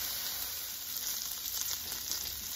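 A gorgonzola pita smash burger patty sizzles on a hot griddle, giving a loud, steady close-up hiss with a fine crackle running evenly from start to finish.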